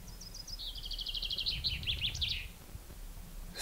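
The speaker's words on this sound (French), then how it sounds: "On a le petit chant des oiseaux." Small birds sing on the slopes of Mont Aigoual, a run of quick high chirps and trills in the first half that fade out, clear over a low outdoor rumble.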